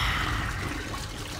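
A toilet flushes nearby, a brief rushing and trickling of water that stays fairly soft and steady, with no voices over it.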